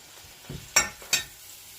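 Sliced bananas fry in melted butter in a pan and get stirred, with a faint sizzle and two sharp scraping strokes of the spoon against the pan, close up and without talk.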